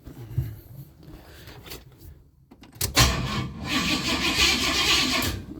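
A 1973 GMC truck engine cranks and catches around the midpoint after a quiet stretch, then settles into a loud, steady close-up running roar through the end.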